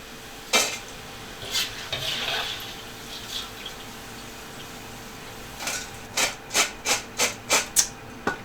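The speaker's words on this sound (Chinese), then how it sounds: "下油锅， 一定要大火将那个洋葱炸脆哈，炸熟炸脆就可以捞起来了哈。" Chopped onions deep-frying in a wok of hot oil over high heat, giving soft crackling sizzle with scraping stirs early on, then a run of about eight quick, regular clacks of a utensil against the pan near the end.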